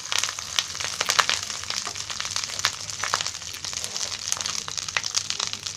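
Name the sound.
cumin seeds added to hot oil, sizzling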